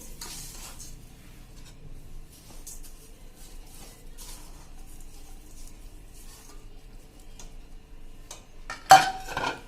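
A spoon stirs jaggery, spices and raw mango pieces for a Gujarati pickle, giving soft intermittent scraping and clinking against the pot, with one louder clatter near the end.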